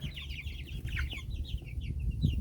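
Chickens in a backyard flock with newly added chicks cluck and chatter softly at close range, a busy overlapping flurry of short calls.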